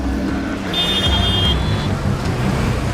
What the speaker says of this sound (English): Traffic gridlocks the streets